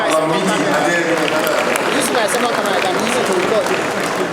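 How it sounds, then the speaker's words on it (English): Loud, dense applause from a large crowd at an awards ceremony, steady throughout with chatter and a few cheers mixed in. "Please, another round of applause for Oba Lamidi Adeyemi."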